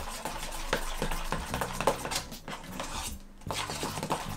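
Gel food colouring being mixed into cream in a bowl, with soft scraping and repeated clinks of a utensil against the bowl at close range.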